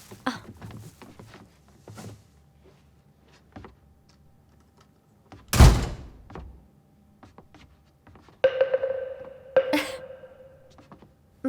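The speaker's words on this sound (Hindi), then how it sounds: "दरवाजा बंद करते आना।" A single heavy thud of a door being shut stands out among quiet shuffling and light tapping in a room, followed later by a brief tonal sound.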